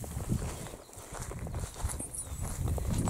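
Slow, irregular hoof steps of cows walking over ground while being herded, with a low rumbling background and faint chatter.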